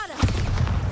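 A Bombarda blasting spell from Hogwarts Legacy goes off as a single sharp, close explosive boom after a brief lead-in, followed by a rumbling low tail.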